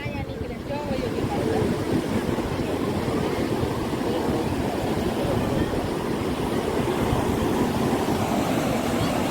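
Ocean surf at Puri beach, Odisha, makes a steady, dense roar with rough wind gusting over the microphone. The churning wash stays close and unbroken throughout, with only faint traces of voices.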